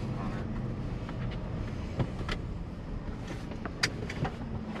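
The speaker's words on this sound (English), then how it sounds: "See, it sounds like a normal truck right now, right?" A Whipple-supercharged 2022 Ford F-150 Lariat truck cruising gently, its engine a steady low rumble under road and wind noise, with a couple of brief clicks and no voices.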